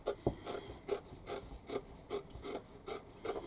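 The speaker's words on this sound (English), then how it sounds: "And now what we need to do is cut the fabric from the middle. So just trim, leaving about 1/4 inch seam allowance around the edge." Scissors trim fabric around a concealed zip for a zip pocket, leaving a narrow seam allowance: a quiet, steady series of short rasping snips, roughly two or three per second, close up with no talking.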